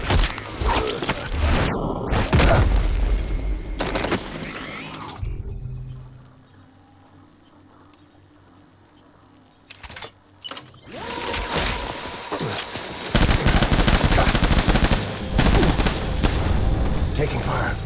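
Gunfire in the video game Death Stranding: loud bursts of shots and booms in the opening seconds, a quieter stretch, then dense sustained firing again, with voices talking over parts of it.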